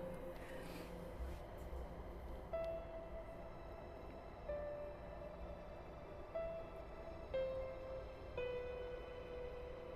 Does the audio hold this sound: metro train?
yes